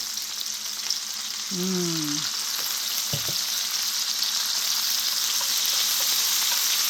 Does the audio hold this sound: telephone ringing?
no